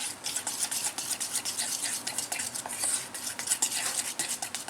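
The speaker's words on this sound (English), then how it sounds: "just using a fork, we're going to stir this" A fork briskly stirring a paste of baking powder and warm water in a bowl, rapid rhythmic clinks and scrapes against the dish, close and continuous.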